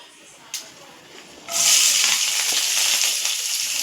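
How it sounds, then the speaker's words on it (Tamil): Mustard seeds and urad dal frying in hot oil: after a quiet start with one small pop, a loud, steady sizzling crackle bursts in and continues to the end. "கடுகு போட்டு உளுத்தம்பருப்பு நல்லா பொரிட்டு வெங்காயம் போடணும்"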